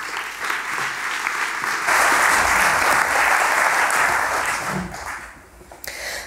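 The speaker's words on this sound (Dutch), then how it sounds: "Mag ik alvast uw warm applaus voor Anne van Maurik en Delta Dua." Audience applause fills a theatre hall after a request for a warm welcome for a theatre company, a dense steady wash of many hands clapping that swells, holds, then tapers off.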